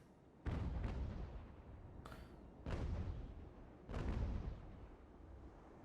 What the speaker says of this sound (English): HMS Ferret is about to start firing.